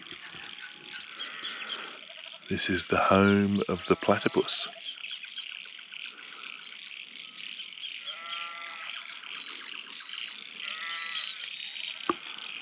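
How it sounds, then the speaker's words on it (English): Frogs calling near a platypus creek in Australia, croaks with a bleating, sheep-like tone, a loud close burst early then softer rippling calls repeating through the rest, with a person speaking over them. "just the sounds are so different for me, even just the sheep, but it sounds like frogs"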